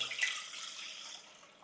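Water pours steadily into a small bowl measured out for rice-flour dough, a bright continuous splashing stream that starts strong and eases off slightly over under two seconds, close and alone.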